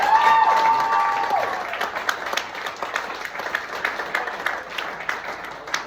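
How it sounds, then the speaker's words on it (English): A country stand-up comedy crowd in Sedan, Cambrai applauds a man named Wayne, lively clapping with a few cheers rising after a short sung or whistled tone, then continuing as steady, moderately loud applause. "can we give Wayne a little bit of a round of applause?"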